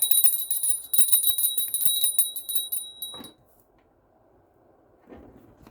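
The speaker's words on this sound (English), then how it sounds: "I'm actually going to ring a bell here" A small bell rings in a rapid, bright, steady shimmer for about three seconds, fairly faint, then stops and leaves near silence with a soft knock near the end.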